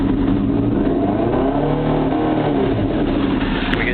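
A motorcycle engine revs loud and close as it pulls through a higher gear, a continuous buzzing drone that wavers slightly in pitch.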